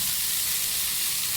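Bitter gourd cooks in oil and salt in a pan, giving a steady, close sizzling hiss throughout a brief moment with no talk.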